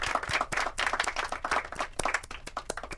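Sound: clapping in a video game

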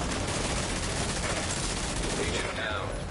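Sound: automated turret firing in the video game The Division 2

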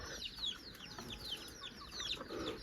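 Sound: chickens clucking

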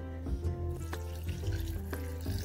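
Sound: water running from tap to add to pasta sauce

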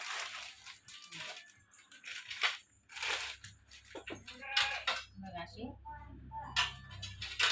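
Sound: steel pots and lids being handled

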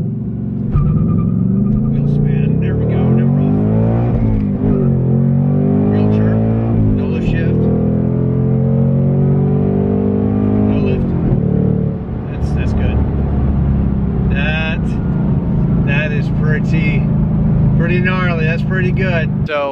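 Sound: 2024 Ford Mustang GT accelerating with launch control

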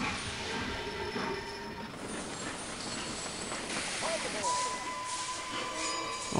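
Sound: train running in Sid Meier's Railroads video game

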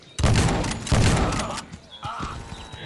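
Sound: gunfire in the video game Guns of Boom

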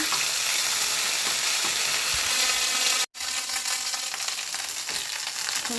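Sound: ginger frying in oil

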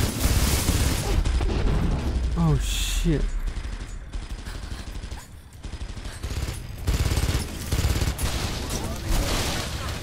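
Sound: helicopter shooting gunfire in Rise of the Tomb Raider video game

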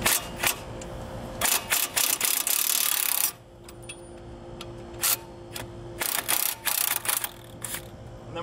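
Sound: ratchet loosening lower bolt on Nissan Altima axle

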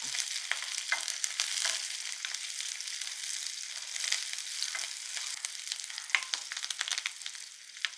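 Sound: curry leaves with stems frying in pan for chutney

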